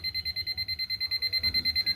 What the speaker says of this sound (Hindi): ये अलार्म बजते हुए दिखाई दे रहा है,